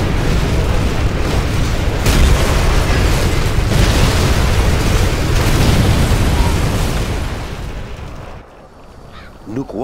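Bombing explosions in the strategy game Command and Conquer Generals Zero Hour merge into a loud, continuous barrage of booms and rumbling blasts that thins out and fades near the end.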